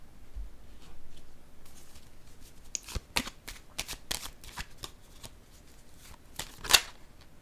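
Playing cards are handled and laid on a table, with soft papery slides and flicks, close and fairly quiet, one sharper snap toward the end.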